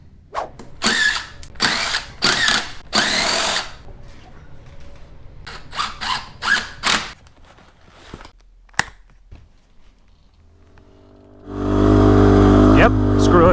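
Motorcycle engine starting and settling into a loud steady idle near the end, after a stretch of clicks, rattles and rustling, with a voice talking over the earlier part.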